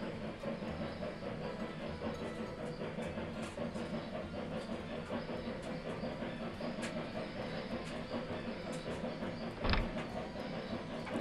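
A freight train labors along in the Railroad Tycoon 3 video game, a steady rumble with rhythmic rail clatter and hiss throughout, one brief sharp burst near the end.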